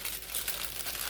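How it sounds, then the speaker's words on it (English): A short burst of crinkling aluminum foil as it is folded around a slice of pork belly for the air fryer, close and steady rustling with no voices. "we're basically going to fold it so that the aluminum foil covers the side of the pork"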